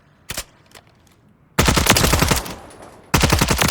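Automatic fire from a CMG Banshee SMG chambered in 4.6x30 in Call of Duty Modern Warfare III: a couple of single shots, then two loud, rapid sustained bursts of close gunfire with no talking.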